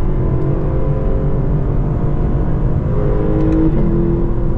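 A Lexus with a 10-speed automatic accelerates hard on the Mid-Ohio track, its engine note rising through the gears in a loud, continuous drone with a brief shift change near the end.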